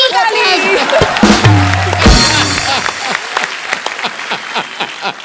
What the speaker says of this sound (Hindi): ओ गुरु, ठोको ताली।